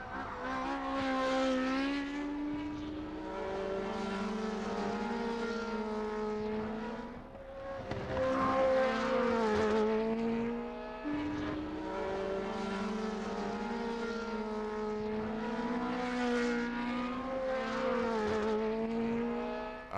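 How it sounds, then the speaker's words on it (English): Several 1978 Formula 1 race cars running cautiously on a rain-soaked track, their high-revving engine notes rising and falling together in a continuous loud drone that swells and fades as the cars pass, with no talking. "Listen to the engine notes to see how carefully they're taking it."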